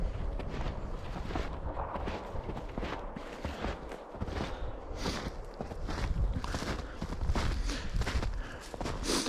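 Footsteps crunch steadily through about six or seven inches of fresh snow, close and fairly faint, forming a continuous walking rhythm recorded on a GoPro Hero 9 Black's built-in microphone.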